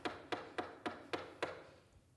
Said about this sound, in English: We're knocking like this.